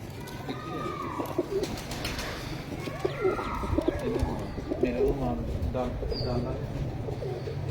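Pigeons at a rooftop loft coo steadily in soft, low repeated calls, with chirps and other bird sounds over a constant background hum, fairly close throughout.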